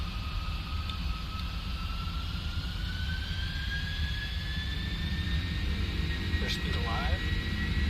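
A PMDG 747-400 in a flight simulator spools up its jet engines to takeoff thrust, a loud steady roar with a rising whine throughout, as a voice calls out briefly near the end.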